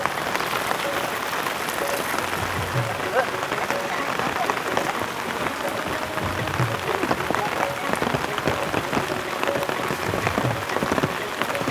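Steady rain falls in a village during net fishing, a dense continuous patter of drops on surfaces that holds an even loudness throughout.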